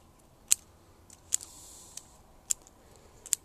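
Scissors snipping cuttings from a Port Jackson fig bonsai: four sharp, close clicks spaced about a second apart over a low, quiet background.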